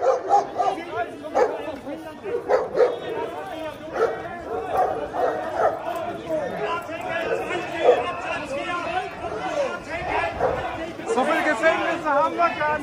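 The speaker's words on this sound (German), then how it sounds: "Die Hunde, wie die heißen." Dogs bark and yip repeatedly amid lively chatter from several people, short excited barks scattered throughout under steady overlapping talk.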